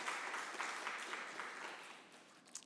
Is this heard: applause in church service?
yes